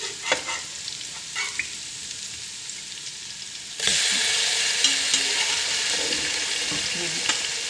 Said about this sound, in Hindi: हम इसमें पहले से गलाया हुआ जो हमने गोश्त है वो हमने इसमें डाल देना है।